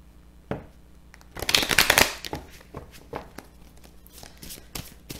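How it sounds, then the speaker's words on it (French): Oracle cards being shuffled by hand, a quick papery riffle close to the microphone followed by softer shuffling and light handling taps. "On va prendre quelques cartes avec l'oracle des miroirs."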